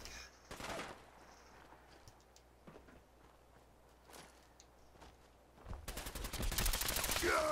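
Gunfire in Fallout 4, a few scattered shots and footsteps in a quiet stretch, then a loud, rapid burst of automatic fire near the end.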